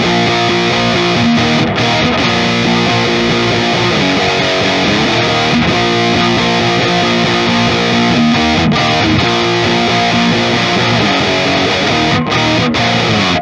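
Two stacked distortion stages of a Rustbelt FX Dual Amp Stoker pedal at maximum settings give a heavily distorted, fuzzy, near-square-wave guitar tone, thick and saturated, sustained loudly throughout with no talking.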